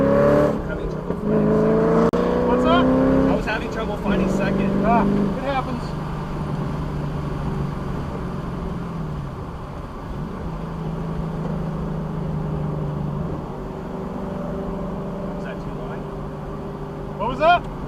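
A car driving on an open race track with an instructor aboard, its engine revving and shifting gears up close, then settling into a steadier drone while people talk over it.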